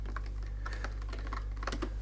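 Quick keystrokes on a computer keyboard type a short search term, a brief burst of clicky taps close by over a steady low electrical hum, with no talk.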